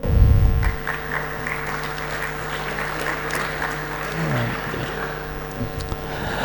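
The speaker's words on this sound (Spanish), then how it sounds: "Un fuerte aplauso, por favor." Applause from an audience at an oil industry conference, a dense steady patter of many hands heard from some distance, settling into continuous clapping over a low background hum.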